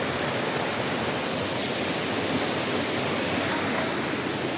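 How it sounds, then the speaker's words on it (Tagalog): Broad, steady rush of flowing river water, loud and close, a continuous even wash with no breaks, at a river resort in Tanay, Rizal. "Ito yung tinatawag na putol na ilog."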